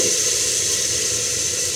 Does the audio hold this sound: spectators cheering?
no